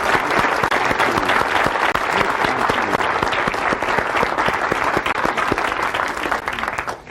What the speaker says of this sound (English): Let's give Zig one more well-deserved round of applause.